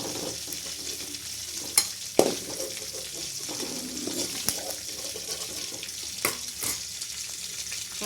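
Dried fish, including broken ghee fish, lightly frying on low heat in a kadai, a soft steady sizzle with several sharp clinks and scrapes of a utensil against the pan.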